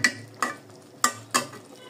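Stuck spiced meat is scraped from the sides of a pan in four sharp scrapes and knocks, irregularly spaced and close by, over a faint low hum, with no speech.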